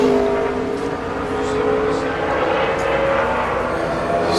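A NASCAR race car roars through a qualifying lap at Phoenix in 2010, its engine a loud, sustained howl that swells slightly as it comes off a corner.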